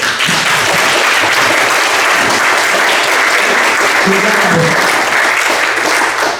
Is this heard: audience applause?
yes